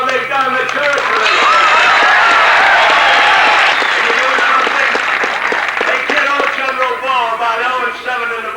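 A large crowd applauds and cheers steadily and loudly at a 1981 Michigan football Rose Bowl pep rally, with dense clapping sustained throughout.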